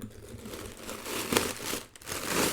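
Packing paper inside a bag crinkles and rustles close by in a steady stream of crackling bursts, with one sharper crunch partway through.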